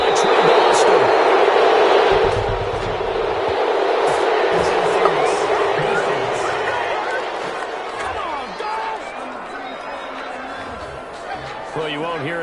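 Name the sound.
home crowd cheering an interception in a football video game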